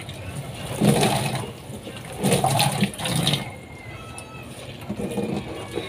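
A sponge is rinsed of dish-soap foam under running water at a sink, the splashing flow rising and falling in several surges, with a quieter trickle toward the end.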